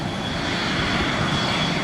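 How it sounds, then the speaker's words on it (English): A fighter jet flying, a loud, continuous broadband roar that stays steady throughout, with no voices. "Fighter jet."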